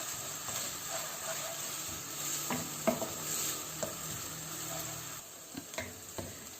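Chopped onions sizzle and hiss steadily in a hot pan as they fry to golden brown, with occasional soft clinks and stirring scrapes.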